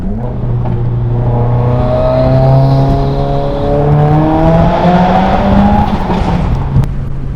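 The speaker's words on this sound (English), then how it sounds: "Oh, I love the pop so much." A dyno-tuned Subaru WRX making about 300 horsepower accelerates hard through a tunnel, its engine note climbing steadily in loud, close, echoing pitch sweeps, with a popping exhaust crackle near the end.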